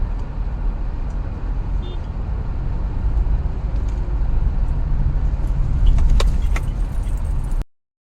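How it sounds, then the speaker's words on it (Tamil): Car traffic rolls through Kuwait City as a steady low rumble of engines and tires, heard from inside or near a moving vehicle, with faint clinks and a slight swell toward the end before it cuts off. "முன்னாடி எத்தனை கார் போகிறாங்க பாருங்கள்"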